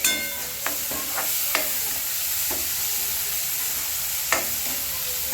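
Onion and tomato sauté in a hot pan with salt, a continuous sizzle broken by several sharp clinks and scrapes of a spoon stirring against the pan.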